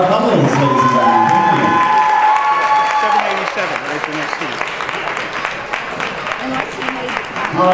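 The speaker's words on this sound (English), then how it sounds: "Nice round of applause for our couples" At a ballroom dancesport competition, the audience applauds the dance couples: a burst of cheering over the first seconds gives way to steady, dense clapping that carries on at a moderate level throughout, with some voices mixed in.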